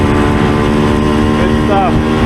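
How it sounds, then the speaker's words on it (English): A 1975 Suzuki TS125 "Duster" two-stroke trail motorcycle revs hard and loud up close, its engine note climbing steadily with no break in the sound. "Definitely revving out further than it was before."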